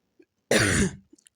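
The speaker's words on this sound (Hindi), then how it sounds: "ऐसे हल्की-हल्की सी खाँसी आ रही है" A single short cough, fairly close and quiet, surrounded by near silence with a couple of faint clicks.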